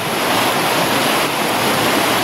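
A flash-flooded stream near a trail shelter roars in a steady, loud, broadband rush of water, close by and unbroken, with no voices.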